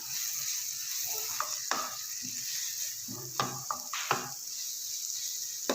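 Ground spices for aloo tikki (chilli, fenugreek, ajwain, dried coriander and cumin powder) roasting in a pan under a constant, fairly faint sizzle. Occasional close scrapes and taps of a spoon stirring them punctuate it, and no one speaks.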